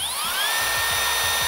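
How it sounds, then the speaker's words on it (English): A handheld power drill revs in short bursts, its high whine climbing and settling while the motor pulses unevenly underneath; loud and close, with no talking. "Really shouldn't play with the drill like that"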